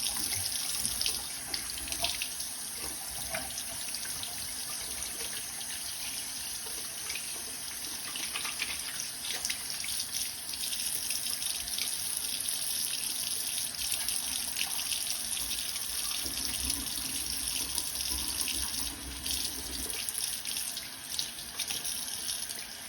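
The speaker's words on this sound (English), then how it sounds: "Turn the water on." Water runs steadily from a bathroom tap while hands are washed with bearded bar soap, a continuous close hiss and splash that stays fairly even throughout with small fluctuations, alone and with no talking.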